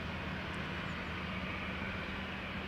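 A KLM Boeing 737-900 jet at Schiphol gives off a steady, broad engine roar that holds even throughout, loud and continuous with no voices.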